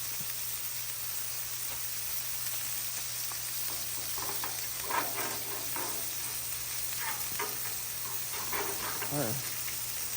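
Burger patties frying on a flat griddle give off a loud, steady sizzle and hiss throughout, with occasional scraping and clatter and a voice talking over the cooking.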